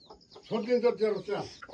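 A tied-up village rooster lets out one drawn-out, strongly voiced call lasting about a second, close and fairly loud.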